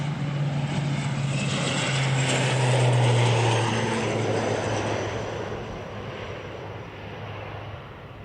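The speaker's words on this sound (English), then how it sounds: "ATR heading off down to Christchurch" An ATR turboprop airliner departs Wellington Airport, a loud steady propeller drone and buzzing whine swelling then slowly fading as it moves away, no voices.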